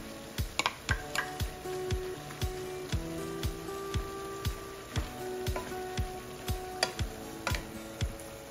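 Carrots sizzling in a hot pan of Ilocano-style igado while being stirred, a steady frying crackle broken by regular sharp ticks of a utensil striking the pan.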